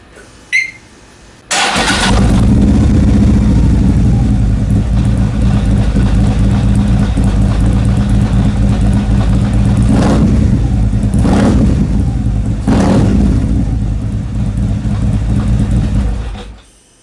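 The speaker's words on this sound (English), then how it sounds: "Glide sounds like after I removed the stock exhaust and replaced it with a Fullsac DX pipe, header pipe, and the 4-inch Bassani D&T straight cans" A 2016 Harley-Davidson CVO Street Glide with a Fullsac DX header and 4-inch Bassani D&T straight cans starts up loud and close, settling into a deep, throbbing idle broken by a few sharp throttle blips.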